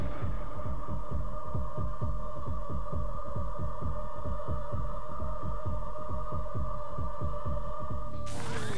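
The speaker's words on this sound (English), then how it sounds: "You hear a heartbeat." A slow, regular heartbeat throbs about three times a second over a low steady hum in a haunted-house television program, with a sudden noisy burst at the very end.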